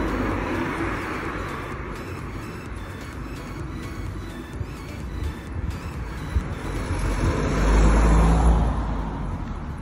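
London street traffic with a bus in winter: a steady roar of passing cars and road noise, with a deep engine rumble swelling close and loud near the end, no talking.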